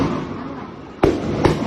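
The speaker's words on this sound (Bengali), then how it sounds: "গলির ভিতরে গুলি করতেছে গলির ভিতরে" Police fire gunshots in a narrow street lane in Jatrabari, Dhaka, during the July 2024 unrest: two sharp, loud bangs about half a second apart, rising above a low background rumble.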